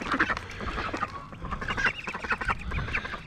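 Baby ducklings quacking and peeping in a busy overlapping chorus, close and continuous with no gaps.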